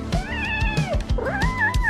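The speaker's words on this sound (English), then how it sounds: "Uh-oh, you've made Kitty cry." A cat crying with two drawn-out, wavering meows, loud and close, the second rising and then falling, over a faint rhythmic background.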